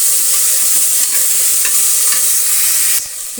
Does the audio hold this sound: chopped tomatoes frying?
yes